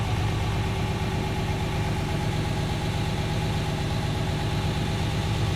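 A 1969 Mercedes 280SE idles steadily throughout, a continuous low engine rumble with even vibration and no talking.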